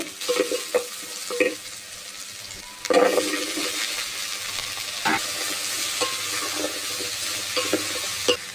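Whole cumin, curry leaves and garlic fry in oil as a moderate steady sizzle, broken by several sharp spatula stirs and scrapes against the pan, with no one talking.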